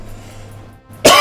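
A single sharp cough erupts loudly at the end after a near-silent stretch with a faint hum.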